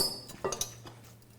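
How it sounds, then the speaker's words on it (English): A metal fork rakes and clinks against a bowl while couscous is fluffed, a few light scrapes and two or three sharp taps over a quiet background, with no one talking. "So you rough it up with a fork, keep turning the bowl as you go."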